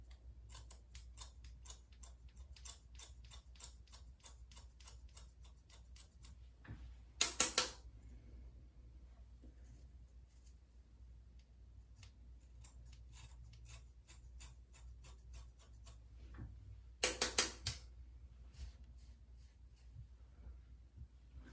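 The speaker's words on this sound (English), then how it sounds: "as we cut with the thinning shear." Thinning shears snipping hair during a skin fade haircut in quick, faint, rapid clicks, with two louder sharp snips in between, close up and quiet otherwise.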